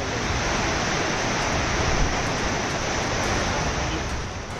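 Floodwater surges through city streets after heavy rain in Andhra Pradesh, a loud and steady rushing roar with no pause.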